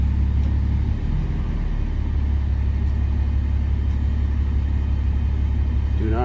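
A 2008 Ram 2500HD with a 68RFE transmission idles in neutral with the parking brake set, a steady loud low engine rumble that holds constant from start to finish, close to the microphone, with no talking.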